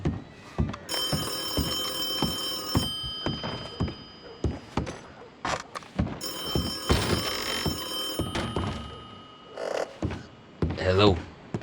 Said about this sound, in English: I hear the alarm too.